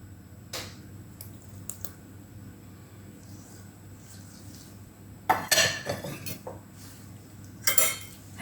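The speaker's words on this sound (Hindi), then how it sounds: "हैंड बीटर से अच्छी तरह मिक्स करना है" Eggs and sugar being mixed in a bowl with a hand beater for Nutella mud brownies, scattered clinks of metal against the bowl growing into bursts of rapid rattling whisking toward the end, no talking.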